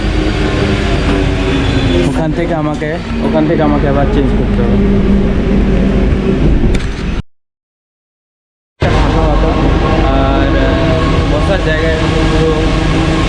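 A Paris metro train on line 7 rumbles steadily along the track under someone talking close by, the running noise cutting out briefly midway before resuming.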